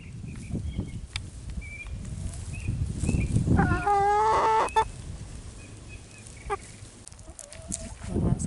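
Silkie chickens cluck and crow-like calls rise repeatedly around a homestead yard, with a clear rooster-type call near the middle and other fowl and farm animals faintly in the background.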